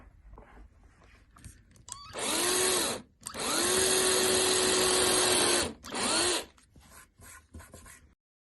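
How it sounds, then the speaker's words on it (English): A power drill whirs in three bursts while pre-drilling small screw holes, a short one, a long steady run, then another short one, with quiet pauses between. "Now it's time to pre-drill tiny little holes just for the screws to go in"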